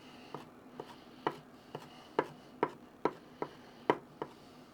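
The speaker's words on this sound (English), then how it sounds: "we're just going to give it a rough chop" A knife roughly chopping cilantro and vegetables on a cutting board, about a dozen crisp, uneven knocks at a loose steady pace, close and clear over quiet background, with no one talking.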